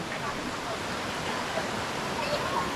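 Rushing water from Sondayi waterfall at Vavarle, Karjat, forms a steady, dense roar that holds at an even loudness throughout, with no clear voices over it.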